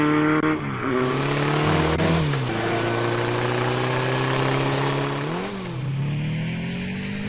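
Motorbike engine in the Tomb Raider video game revving steadily and loudly, pitch climbing and dipping through several rises as the bike speeds along, continuous with no talking.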